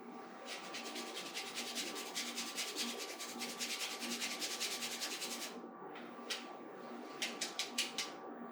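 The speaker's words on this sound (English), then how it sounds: "if you just get the nutmeg and grate it yourself" Whole nutmeg is hand-grated for mac and cheese, a rapid run of rhythmic scraping strokes up close, steady and fairly quiet, then breaking into a few separate rasps near the end.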